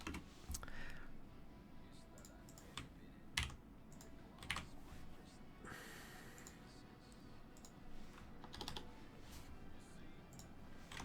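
Typing on a computer keyboard, faint and steady, with irregular key clicks and a few sharper taps against a low room hum.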